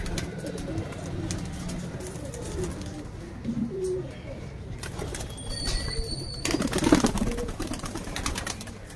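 Pigeons kept by a pigeon fancier and former wrestler coo softly amid rustling and faint background voices, with a few brief higher chirps partway through.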